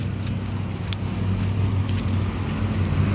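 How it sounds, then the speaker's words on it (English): A car runs on a shortened race course of just over a mile in sleet, heard as a steady low engine rumble with faint crackling on top, fairly distant and constant. "And I hear the BMR car coming through."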